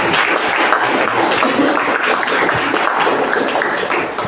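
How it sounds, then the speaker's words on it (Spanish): Steady applause from an audience at a poetry reading, dense and sustained throughout without a break, fairly loud and even, with no talk over it. "Otro aplauso"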